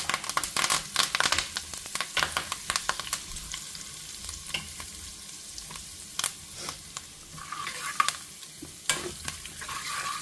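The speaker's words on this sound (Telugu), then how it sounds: "ఇదంతా ఒకసారి కలిపేసుకొని పోపు వేగింది చూడండి" Cumin, mustard seeds, dried red chillies, asafoetida and curry leaves crackle and sizzle in hot oil, with sharp pops and stirring scrapes scattered throughout, loud and close.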